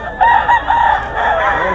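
Gamefowl roosters in a net-covered cage crow loudly and close, a short wavering call with clucking tones that carries on for under two seconds.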